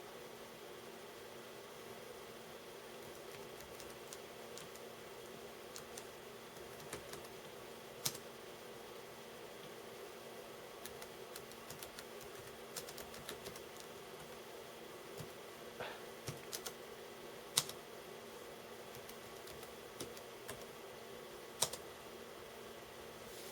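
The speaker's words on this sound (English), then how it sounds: "they don't make keyboards like this anymore on laptops" Sparse, faint key clicks of typing on a laptop keyboard sound close by over a steady low hiss in a quiet room.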